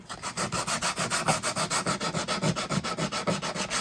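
Rapid rhythmic back-and-forth strokes of 80 grit sandpaper rubbing a Zenith 9-S-262 tube radio chassis, close and steady, about six strokes a second with no talking.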